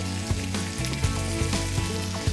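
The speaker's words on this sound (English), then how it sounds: "Stir the lamb through in that spicy masala paste." Lamb sizzling and frying in a spicy masala paste with cumin, coriander and garam masala, a steady close sizzle broken by regular stirring scrapes and clatters, with no talk.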